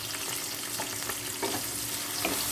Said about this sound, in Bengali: এই যে রসুনগুলো তেলে দিয়ে দিলাম, সাথে এই যে কাঁচা লঙ্কাটাও দিয়ে দিলাম।